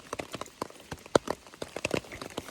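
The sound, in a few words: rain falling on a hiking trail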